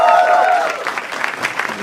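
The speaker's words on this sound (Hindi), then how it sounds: "जोर तालियां हो जाए पैनल के लिए" Audience applause for the panel at a comedy show, a dense burst of clapping that swells in after a brief spoken intro and carries on steadily to the end.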